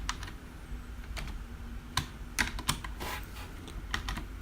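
Quick, light keystrokes on a computer keyboard as HTML code is entered, irregular clicks in short bursts, close and fairly quiet, with no voices.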